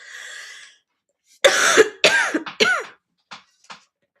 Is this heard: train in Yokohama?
no